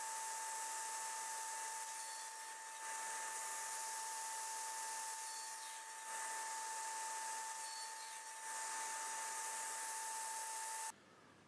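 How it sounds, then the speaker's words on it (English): Power saw making cross cuts through a glued-up end grain cutting board blank, slicing strips about 40 mm thick; a steady, loud whining drone runs continuously for about eleven seconds, with slight surges, then cuts off abruptly. "I'll make the cross cuts, and they're going to be 40 mil thick"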